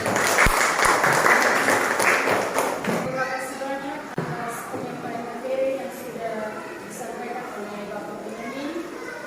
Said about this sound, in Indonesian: Ya, tepuk tangan untuk saya.